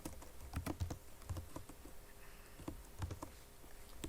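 Keys clatter on a computer keyboard while typing code, irregular quick clicks in small clusters with brief gaps, close and fairly quiet, no voice.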